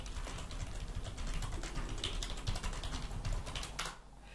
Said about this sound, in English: don't try to type this in, Jeremy